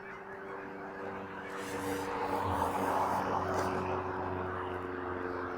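Geese honking faintly in the distance over a steady drone of a passing airplane, the calls scattered and overlapping.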